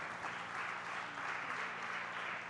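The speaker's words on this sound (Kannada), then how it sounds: "ಈ ಮೂವರಿಗೂ ಒಂದೊಮ್ಮೆ ಜೋರಾದ ಚಪ್ಪಾಳೆ ಬರಬೇಕು." An audience claps loudly and steadily at a public safety campaign event, a dense, sustained round of applause honouring the production crew, with no talk over it.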